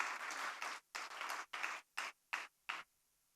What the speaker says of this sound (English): Can we have a big round of applause to start the morning,